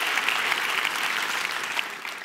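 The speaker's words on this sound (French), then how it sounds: "Applaudissez-les," An audience applauds during a special evening event in France: dense, even clapping from a full crowd, sustained and bright, with no voices on top.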